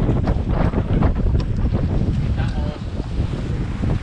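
Steady wind buffeting the microphone aboard a sailboat at sea, a loud continuous rushing roar with water sloshing beneath and a voice talking over it.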